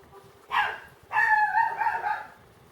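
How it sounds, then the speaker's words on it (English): Dogs barking nearby, a short sharp bark followed by a longer run of yelping, whining barks, loud and alone. "My dogs."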